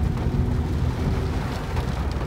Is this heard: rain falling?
yes